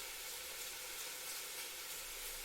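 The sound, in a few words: bacon sizzling in a pan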